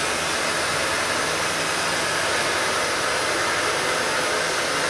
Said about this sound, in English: I'm gonna go ahead and heat the whole bumper up